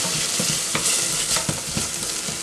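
Onions sizzle and fry steadily in a hot pan after a splash of water, with a dense continuous hiss and occasional soft stirring scrapes, loud and close.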